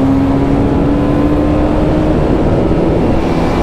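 Steady engine drone and wind rush from a 2023 TVS Apache RR310 BS6 sport motorcycle being ridden, a continuous loud hum with no talking.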